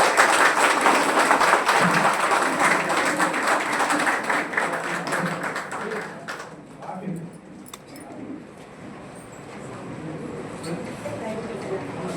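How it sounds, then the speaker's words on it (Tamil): An audience at a Tamil award ceremony claps loudly and steadily, then the applause tapers off into murmuring and scattered sounds with a voice nearby. "அனைவரும் ஒரு பலத்த கைத்தட்டுடன்"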